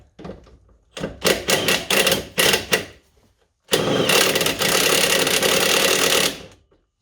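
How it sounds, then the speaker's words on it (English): A tool removing a bolt from the suspension of a Citroen Berlingo Multispace with an Allen key. It gives several short loud bursts of whirring, then one longer continuous run of about two and a half seconds, with no talking. "get a Allen key in the top there, which I'll do now and get the bolt off."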